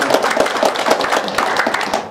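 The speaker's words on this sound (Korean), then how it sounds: "우리 박수 한번 해주세요" An audience at an indoor Korean foreign-affairs and security forum claps together, a quick run of sharp, close hand claps in a brisk irregular rhythm, loud and unaccompanied by talk.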